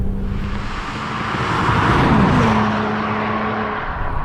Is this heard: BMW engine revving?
yes